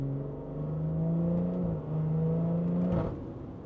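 A car's BMW B58 engine revs up steadily, drops briefly as it shifts gear, then climbs again and falls away; loud, droning, with no voices.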